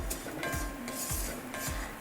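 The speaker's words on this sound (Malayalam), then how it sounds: "ഇനി നന്നായിട്ടൊന്ന് ഇളക്കുക" A spoon stirs coriander and masala spice powders with roasted coconut in a pan for Kerala jackfruit curry. It makes a steady scraping rub in repeated strokes, fairly quiet and close, with no voices.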